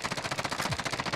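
Rapid automatic fire from a video game gun, a steady stream of evenly spaced shots rattling close and loud for the full second.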